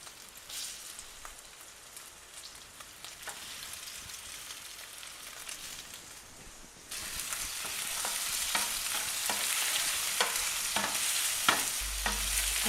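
Chicken pieces fry in oil in a hot pan, giving a soft crackling hiss that suddenly swells into a louder, denser sizzle partway through, with scattered pops and no talking.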